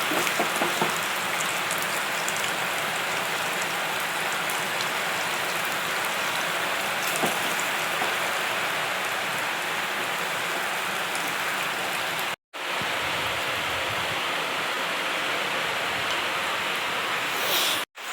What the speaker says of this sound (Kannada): ಮಳೆ ಅಂತೂ ಸಿಕ್ಕಾಪಟ್ಟೆ ಬರ್ತಾ ಇದೆ.